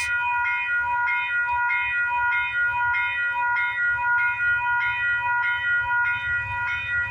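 Westbound CN/CP freight train passing in Milton, Ontario, its multi-tone horn sounding in repeated blasts over a steady low rumble of rolling cars, close and prominent.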